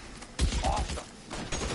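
Gunfire in the crime game L.A. Noire, a short burst of fusillade-like shots around the middle, mixed with game noise and a brief tonal effect.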